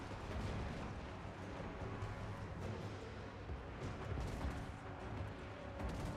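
Dense, continuous battle noise in the video game Total War: Warhammer 2, with rapid gunfire and dull booms blending into a constant roar, heard at a distance.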